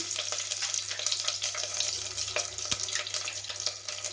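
Curry leaves and green chillies sizzle in hot oil already tempered with mustard seeds and a pinch of asafoetida for a Goan chana usal, a steady close hiss with one sharp pop partway through.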